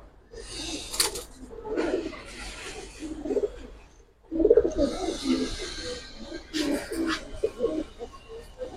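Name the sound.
pigeons cooing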